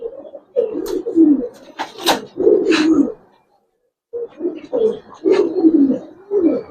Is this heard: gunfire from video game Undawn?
no